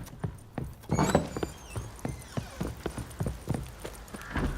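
Roach, a horse in the video game The Witcher 3, gallops with a steady, close clip-clop rhythm of hoofbeats, with a brief whoosh and faint game ambience between strides.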